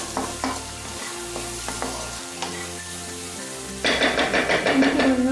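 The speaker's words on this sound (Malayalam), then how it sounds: "കുറച്ച് ആഡ് ചെയ്തിട്ട് നമ്മൾ ഒന്ന് ഇളക്കി കൊടുക്കണം" Spice powder stirred in a pan over a low flame, a spoon scraping in soft irregular strokes beneath a steady frying sizzle that grows louder and brighter for the last couple of seconds.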